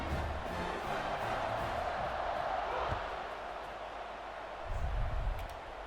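A home stadium crowd in EA Sports College Football 26 roars steadily in a game against Illinois, a dense wash of cheering that swells near the end, with faint commentary underneath.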